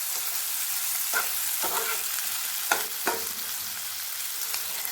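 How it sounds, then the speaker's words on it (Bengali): Sliced onions with a pinch of salt fry gently in a pan over low heat for an egg lababdar, a soft, even sizzle broken by four or five clicks of a spatula stirring. "আমি এইভাবে সিম আঁচে রেখে কিছু সময়ের জন্য পেঁয়াজগুলোকে লালচে লালচে করে ভেজে নেব।"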